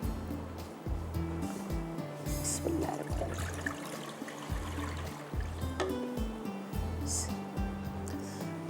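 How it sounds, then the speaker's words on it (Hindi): About one litre of milk poured into a second pan on a home kitchen stove, a steady liquid trickle that runs continuously over low background music. "दूसरे पैन के अंदर हम डाल देंगे दूध।"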